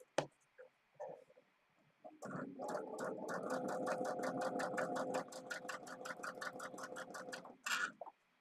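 Sewing machine stitching a pillow, opening with a few scattered clicks before a steady rhythmic run of needle strokes over a motor hum, ending in a brief louder burst.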